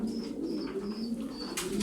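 Tumbler pigeons coo in a soft, low, continuous murmur close by, with a few faint higher chirps over it and no voices.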